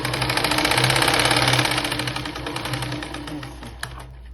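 Sewing machine running steadily while stitching a belt blouse, a close, continuous rapid mechanical whir with fine rhythmic clatter that eases slightly before stopping.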